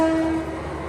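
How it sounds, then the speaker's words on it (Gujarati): A MEMU train sounds a short, loud, steady horn as it departs Kadi station, the tone cutting off after a moment over a rumbling rail background. "મેમો ટ્રેનને આપેલી ઝંડીથી જઈ રહી છે."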